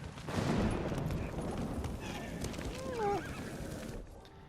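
A horse whinnies in the Ghost of Tsushima video game, with hoof clatter and busy game noise around it; a rising and falling neigh stands out near the middle.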